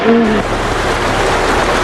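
Steady rain pouring down, a continuous dense hiss with no talking.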